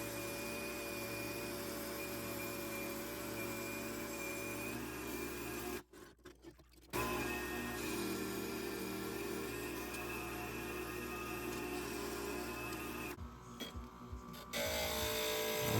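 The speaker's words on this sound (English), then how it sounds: "grinding off the edges that I didn't cut with the ring saw" A glass grinder smooths the edges of stained glass pieces with a steady whirring motor hum, fairly quiet and continuous, stopping briefly twice before resuming, with no talking.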